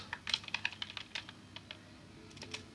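Quiet typing on a computer keyboard while entering Python code: a rapid, irregular run of light key clicks, close and soft, with no talk.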